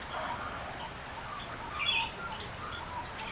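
Small birds chirp faintly in the distance over a steady outdoor hiss, with a brief brighter burst of high tweets midway.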